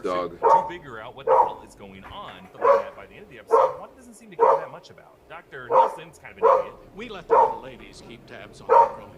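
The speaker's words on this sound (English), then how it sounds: "Apologies for the dog, the neighbor's dog." A neighbor's dog barks in a steady run of about a dozen loud, evenly spaced barks, heard close and clear over a person talking throughout.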